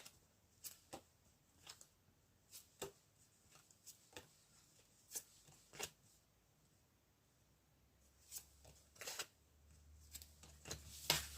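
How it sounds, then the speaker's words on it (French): Tarot cards are shuffled and handled in quiet, scattered bursts: short papery riffles and flicks with pauses between them, close and fairly soft. "on va du coup tirer des cartes sur cette énergie tierce pour en apprendre un peu plus."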